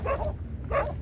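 Dogs barking near a forest garden in a Saudi desert, two short bark bursts about half a second apart, fairly close and loud over a rumbling background.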